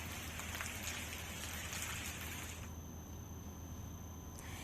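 Steady rain falling in a Yamuna valley district of the hills, a dense even hiss of drops on surfaces that continues throughout with no voices.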